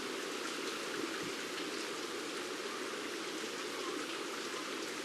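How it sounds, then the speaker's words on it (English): Water floods in during the video game Eastshade, a steady, dense rushing roar that stays loud and unbroken throughout with no voices. "There's water coming in."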